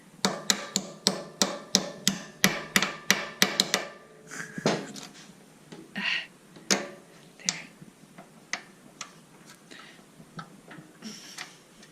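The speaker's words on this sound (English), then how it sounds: "Now use your little hammer device" A series of sharp, regular metallic taps from a small hammer fitting a passenger foot peg on a Harley-Davidson Sportster Iron 883, quick and evenly spaced at first, then slower and more scattered, close and fairly quiet.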